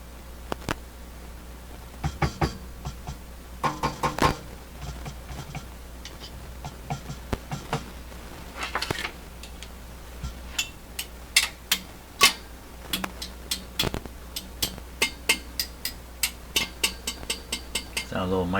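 Irregular pops and clicks from a National HRO radio receiver of unknown condition, scattered sharp crackles at varying loudness over a low steady hum, fairly faint overall.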